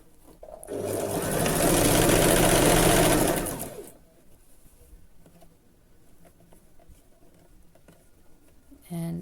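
A sewing machine stitches a side slit seam on a dress in one steady run of about four seconds, close and even, then stops, leaving quiet room noise.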